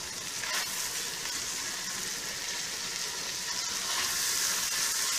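Ground beef fries in a small cast iron pan with garlic, a steady dense sizzle and crackle at moderate level with occasional stirring scrapes, no voices heard.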